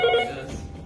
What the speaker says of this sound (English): The phone was ringing and there was no one in here.